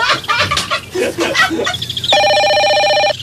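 A cellphone rings loudly and close by with a sustained electronic ringtone, following a stretch of excited voices and laughter in a room.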